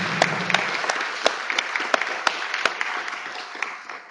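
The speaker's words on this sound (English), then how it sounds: "So if we could give them all a big round of applause." An audience at a national show award presentation in Marlborough, Massachusetts, applauds the hosts with steady, dense clapping, a few sharper claps standing out close by throughout.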